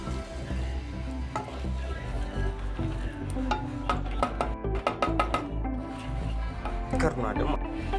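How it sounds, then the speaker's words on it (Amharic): Tomatoes frying in a pan, with a crackling sizzle and scattered sharp stirring clicks close by while a person talks over it. "ቲማቲማችንን በዚህ መልኩ አስገብተን እናቅሏለን።"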